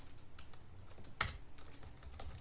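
Code typed on a computer keyboard during Unity game development, a run of quiet, irregular key clicks with one sharper keystroke standing out in the middle.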